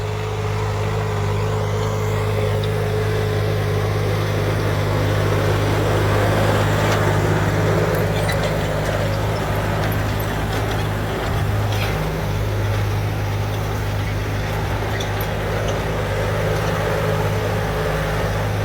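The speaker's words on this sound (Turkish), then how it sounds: "Ve sessiz biraz. Sesi bile az bu traktörün." A Hattat B 3065 four-wheel-drive tractor engine idles in a steady, fairly quiet low rumble throughout, with faint outdoor sounds over it.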